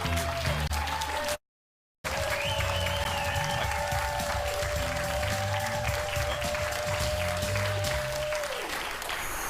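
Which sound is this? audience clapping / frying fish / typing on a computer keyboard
audience clapping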